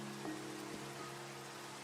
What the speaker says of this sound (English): Oh, the rain ran out.